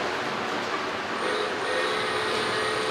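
A Polar Express model train runs steadily along its track, giving a continuous close rumble and hiss with faint wheel squeal and a light clickety-clack throughout.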